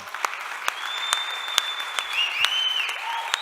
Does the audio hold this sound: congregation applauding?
yes